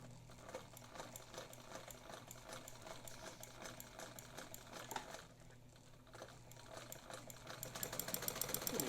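A Necchi BU Mira sewing machine from 1951, set on straight stitch, runs slowly at first with a steady, close mechanical chatter of needle strokes that quickens and grows louder near the end.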